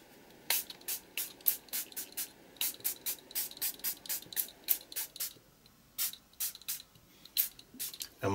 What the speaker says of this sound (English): So we'll give that a spritz as well.